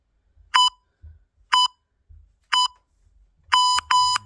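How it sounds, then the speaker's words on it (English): Workout timer in a boxing fitness session gives five sharp electronic beeps, three evenly spaced about a second apart, then two longer ones close together, loud and clear over quiet low rumbles. "And we'll wait for that beep"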